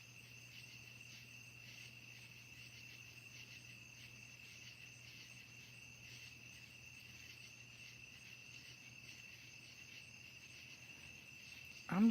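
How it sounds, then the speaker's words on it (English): Crickets chirp at night outdoors, making a steady, continuous high trill that stays even and fairly faint throughout, with a low hum beneath it. "And the crickets are loud."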